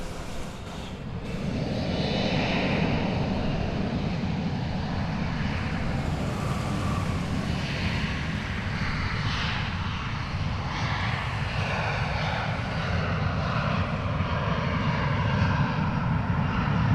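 An Air Canada 767 airliner at DFW Airport roars steadily with loud, broad jet engine rumble and hiss, sustained throughout without talk.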